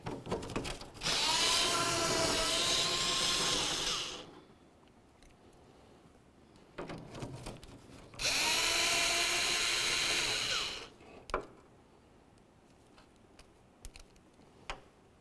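Power tool running on 10mm nuts on a 2004-2015 Nissan Titan tailgate, two loud whirring bursts of about three seconds each separated by quiet clicks and handling noise.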